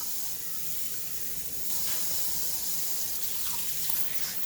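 Kitchen tap water running steadily into a sink, a constant close hiss and splash that swells slightly partway through, with no talking.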